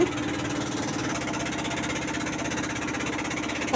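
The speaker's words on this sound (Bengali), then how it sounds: "বোট কিন্তু অনেক স্পিডে ছেড়েছে খুব ভালো লাগতেছে পানি ছিটা আসতেছে গায়ে" Motor boat engine running at speed on a river near a waterfall, a loud, steady throbbing drone with rapid pulsing vibration that holds constant throughout, with wind around it.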